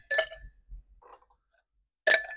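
Ice cubes clink into a highball glass for a bourbon summer drink, two bright sharp bursts of glassy clatter separated by a quiet gap with a faint knock between, close and clear.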